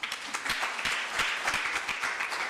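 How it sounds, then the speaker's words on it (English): An audience at a university college event gives a round of applause, dense steady clapping with distinct individual claps audible throughout, moderately loud and unaccompanied by speech. "Please give him a round of applause."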